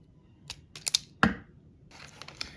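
Kaiweets wire strippers cutting 10 gauge wire: a few quiet sharp clicks and a crisp snip of the blade closing, followed by faint rustling handling noises, close up in a quiet room.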